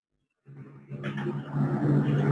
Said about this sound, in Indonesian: Bunyi ada sepeda motor